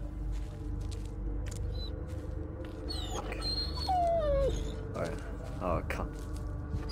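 High wavering dog whimpers and whines in the Blair Witch video game, rising and falling over a dense, rumbling game soundscape while someone talks through most of the stretch.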